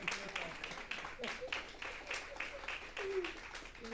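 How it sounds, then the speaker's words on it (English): A congregation at a Thanksgiving church service gives a standing ovation: dense, steady clapping fills the room for several seconds, with scattered voices and faint cheers mixed in. "Standing applause."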